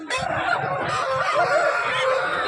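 Native country chickens cluck and squawk in a busy overlapping chorus at a weekly village chicken market in Nallapadu, close and continuous.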